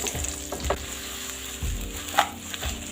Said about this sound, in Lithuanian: česnakai su svogūnais supjaustyti, einam kepti. O dedam kepti.